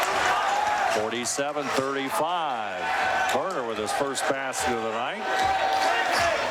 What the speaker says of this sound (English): Crowd trying to get into it here at Ohio Northern.